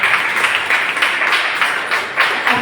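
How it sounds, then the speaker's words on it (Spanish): A church congregation claps loudly during a service, with repeated sharp, rhythmic bursts of hand claps filling the room close by and no voices heard. "Damos fuerte palmas al Señor."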